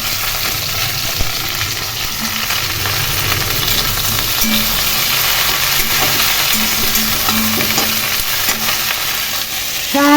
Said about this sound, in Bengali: আলু ভাজা হয়ে গেছে, এর মধ্যে ফুলকপিগুলো দিয়ে ভালো করে ভেজে নেব।